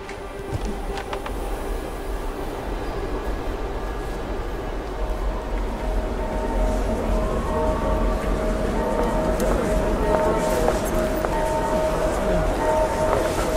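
A train runs in the Hitman: Absolution video game with a steady low rumble of rolling wagons, faint tonal squeals and hums above it, holding level throughout.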